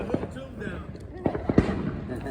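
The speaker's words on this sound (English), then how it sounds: "Surprised there's so many fireworks over by our house." Fireworks bursting in the sky near a house: several sharp, fairly close bangs and pops spaced irregularly, with people talking and exclaiming over them.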